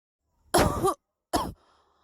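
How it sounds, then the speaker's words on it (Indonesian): Two short, separate coughs from a child, the first longer and rougher, the second brief, each followed by quiet. "Tiba-tiba terdengar suara batuk si bungsu."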